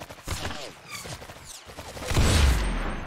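Gunfire in the video game Arsenal crackles in rapid bursts of shots, with sweeping whooshes and a heavier loud booming burst near the end.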